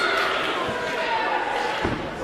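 Wrestler slammed down onto the ring mat during a televised wrestling match, a dull thud or two over steady crowd noise and a commentator talking.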